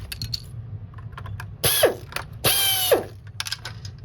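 A T10 screwdriver turns a screw out of a Dyson UP13-16 cleaner head, giving close, dry ratcheting clicks in short bursts, with two longer grinding runs in the middle of the clip.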